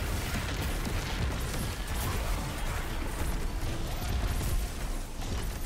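Repeated explosions and bursts in the Destiny 2 game, a dense, continuous barrage of booms and crackles at steady loudness throughout, with no voice.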